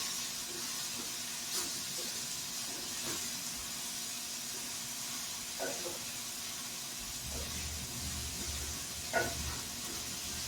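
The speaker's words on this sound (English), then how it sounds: "And I can see it sizzling at the bottom." Seasoned spheres sear in hot oil in a pan, giving a steady, faint hiss of sizzling throughout, with a few light clicks and scrapes from a wooden spatula turning them.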